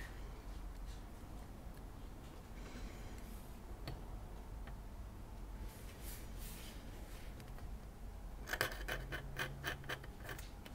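A fine Kaweco calligraphy nib scratches faintly across paper while swatches are made, giving quiet ticking strokes under a soft room hiss, with a brief cluster of sharper scrapes late on.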